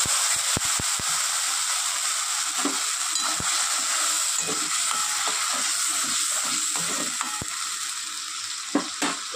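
Fried onion, tomato and white sesame seeds tipped into hot spiced oil for a rajma curry, giving a steady, loud sizzle throughout with scattered clicks and stirring scrapes; no talk.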